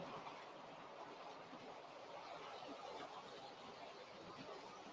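A model train runs along its track, a continuous soft rolling rumble with faint wheel clatter, steady and fairly quiet throughout.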